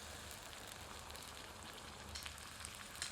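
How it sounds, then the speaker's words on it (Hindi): Ground ginger-garlic paste sizzling in a pan with browned onions over medium heat for a spicy catfish curry, a soft, steady frying hiss with faint crackles and an occasional louder spatter near the end. "मिलाकर 2 से 3 मिनट मध्यम आंच पर भूनते हैं।"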